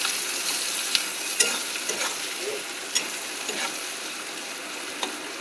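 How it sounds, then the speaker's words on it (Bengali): Onion, garlic, tomato and slit green chilies sizzle steadily in a pan while being stirred, with scattered light clicks and scrapes of the spoon over a continuous frying hiss, with no voices. "মশলাটা একটু ভাজা হতে থাক, পেঁয়াজ রসুন টমেটো চেরা লঙ্কা।"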